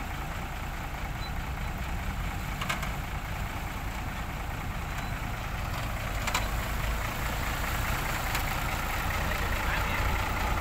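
A pickup truck whose center driveshaft bearing mount has come loose and is held up with rope drones steadily as it drives, with a constant low engine rumble and faint, occasional metallic ticks.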